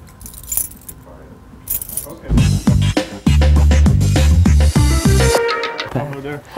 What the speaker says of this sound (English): Nico, hand over the keys.